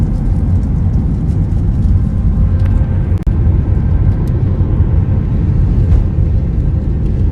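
Constant low roaring drone fills the space like an aircraft cabin, steady and loud throughout, with a faint click midway.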